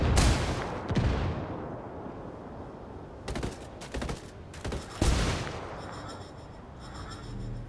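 Gunfire in a video game: several separate bursts of shots boom and crack at irregular intervals, the first loud with a long fading tail, later ones in quick clusters.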